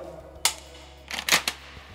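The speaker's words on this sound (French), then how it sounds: "On veut décharger, on appuie sur le petit déverrouillage de culasse." Sharp metallic clicks and clacks from the bolt release and action of a Benelli Montefeltro shotgun, with a wooden stock and blued barrel, being unloaded: one click, then a quick cluster of mechanical snaps close up.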